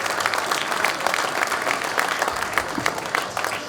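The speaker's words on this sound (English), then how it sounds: "Let's give all those car owners and cars a big round of applause." A crowd at a classic car concours award ceremony applauds the vehicle exhibitors, with steady, dense clapping from many hands that stays even throughout, fairly close.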